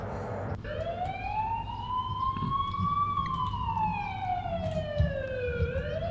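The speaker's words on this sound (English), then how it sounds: "Why is there an ambulance here?" An ambulance siren in the school horror game The Coma: Cutting Class wails with a slow rising and falling tone over a low rumble, fairly close and prominent, with no talk.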